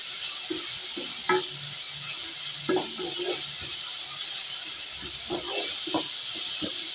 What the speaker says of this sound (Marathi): आणि आता मी ह्याच्यामध्ये घालणार टोमॅटो, 2 टोमॅटो घालायचे।